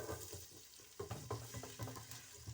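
Four tablespoons of oil heat in a pan for kadhi, giving a faint, soft sizzle with light scraping and stirring taps, quiet and close with no talk.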